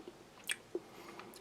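Dry, malty dark rye bread from a Latvian army N.R.4 field ration being chewed, with a few soft, quiet bites and crunches spread over a brief moment, close to the mic.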